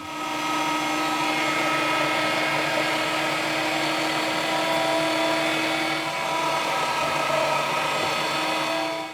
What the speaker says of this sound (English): It really helps in the grinding process, takes a lot of stress off of your grinder.